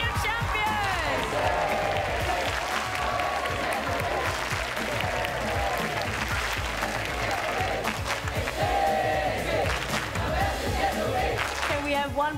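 A crowd at the National STEM Championship 2023 final applauds and cheers the winning team: continuous heavy clapping with scattered shouts and whoops mixed in, sustained at even loudness.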